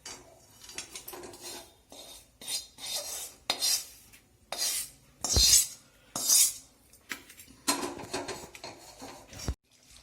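A metal spoon scrapes and clinks against a kadhai, lifting out turmeric roasted in desi ghee; repeated close, bright scraping strokes come in short bursts with pauses between them.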